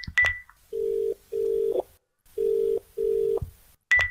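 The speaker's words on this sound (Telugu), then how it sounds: "ఏంటి నాన్న ఫోన్ లిఫ్ట్ చేయట్లేదు?" A telephone call rings out unanswered: a short beep, then four evenly spaced ringback tones in pairs, and a closing beep, clear and close with no talk.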